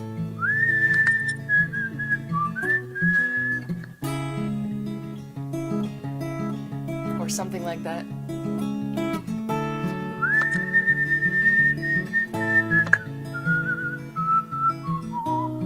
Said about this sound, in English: I imagine there's a whistle solo.